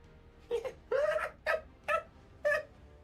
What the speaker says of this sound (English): The barking gets louder, and this chittering, almost maniacal cackling.